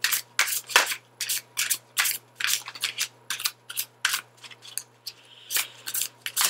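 Tarot cards being drawn and handled, with a run of quick, close papery flicks and rubs in an uneven rhythm, fairly faint and with no talking.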